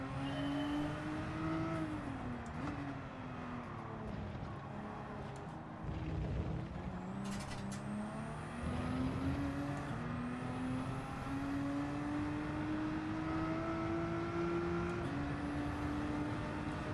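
A race car engine in Gran Turismo 7 practice laps whines loudly and continuously, rising through the gears with a few shifts and dips, no talk over it.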